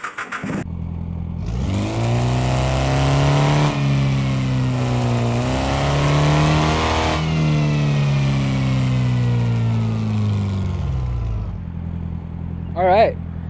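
In Car Mechanic Simulator 2026, a car engine starts and revs up and down several times over a steady running drone, loud and close throughout.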